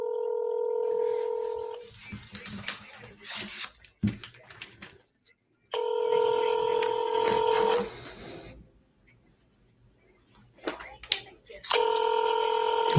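A telephone dials out with bursts of DTMF key tones, then the line rings with steady repeated ring tones, separated by gaps. Voices talk over parts of it.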